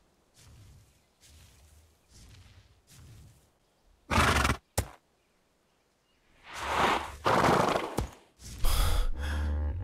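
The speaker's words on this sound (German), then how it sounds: "Ich höre ein Pferd hier." A horse in the video game ARK gives a few soft snorting breaths, then several loud, sharp whinnies and neighs in separate bursts, close and unaccompanied by talk.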